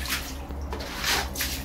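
A magic broom floor scraper pushes water across a wet floor nearby, making repeated wet swishing and scraping strokes in short bursts, with a low steady hum underneath and no talking.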